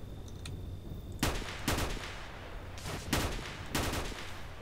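Gunfire in the game S.T.A.L.K.E.R. Shadow of Chernobyl: four separate loud shots at uneven intervals, each with a short rumbling tail, over steady low background noise.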